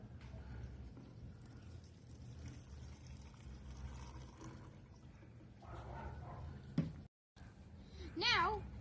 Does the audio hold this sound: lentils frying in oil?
no